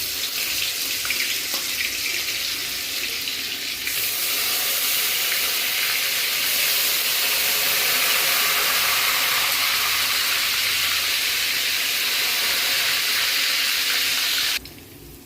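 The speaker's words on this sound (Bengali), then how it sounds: "রসুনটা ফার্স্টে তেলে ছাড়বো।" Garlic paste dropped into hot oil in a home kitchen sizzles loudly and steadily for about fifteen seconds as a broad hiss, then cuts off abruptly near the end.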